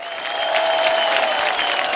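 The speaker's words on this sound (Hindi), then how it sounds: "रानी मैम के लिए एक बार जोरदार तालियां हो जाए" Steady applause from an award show audience, a dense wash of clapping that swells slightly and holds at a moderate level throughout.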